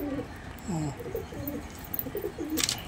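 Pigeons coo softly in a series of low rolling calls while being hand-fed. The birds stay close and gather around the feeder, with light rustling and a brief sharper sound near the end.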